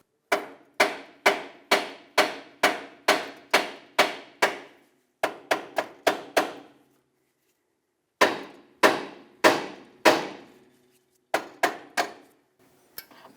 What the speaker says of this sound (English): Now use a hammer, tap the side of the knuckle.